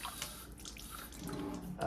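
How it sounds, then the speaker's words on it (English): Water trickles and drips into the condensate trap of an NTI boiler being put back in service, a steady light splashing that thickens toward the end. "it's a good idea to put a little bit of water in there to make sure that ball is floating fully"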